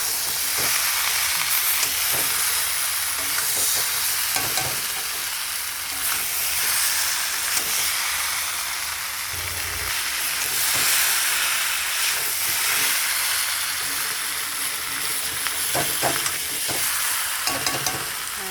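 Fish cooks in spice paste in a hot pan, giving a loud, continuous sizzle and hiss with repeated scraping clicks as the spoon stirs it.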